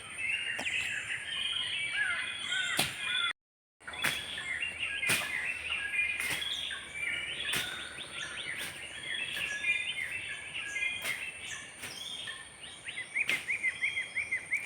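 Birds chirp and trill continuously in a dense, high chorus, with sharp clicks or taps cutting in at intervals and a brief dropout near the start.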